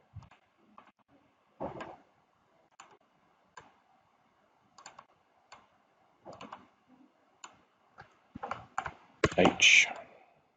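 Sparse keyboard clicks sound as single keys and short bursts, separated by pauses, growing louder and denser near the end.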